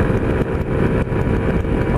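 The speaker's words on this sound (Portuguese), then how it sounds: "Tô acelerando progressivamente aqui porque o motor tá amaciando." Honda Pop 110 motorcycle with a 30-tooth rear sprocket and 15-tooth pinion, engine still being broken in, droning steadily under throttle on a straight road, loud and close with wind buffeting.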